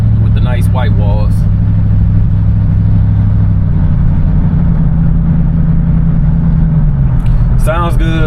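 A 1977 Lincoln Continental's engine drones steadily and loud while driving, a low rumble that shifts in pitch midway as it pulls, with voices talking briefly at the start and end.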